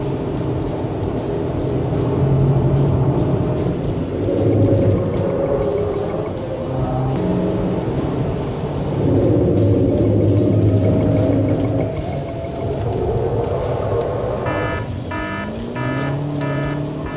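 A GAC GS3 Emzoom SUV being driven fast on a race track, engine droning and rising and falling in pitch as it accelerates and slows through corners, with steady road and wind rumble underneath.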